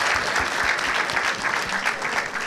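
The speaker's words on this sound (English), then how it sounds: "Give him a round of applause." An audience at a school panel discussion on the film Selma breaks into steady, dense applause that fills the room, continuous and loud, with scattered cheers under the clapping.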